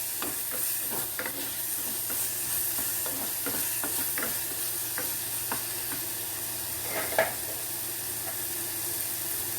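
Shallots sauteing with a little salt in a pan, a steady sizzle with intermittent scraping and stirring clicks from a spatula, close and continuous.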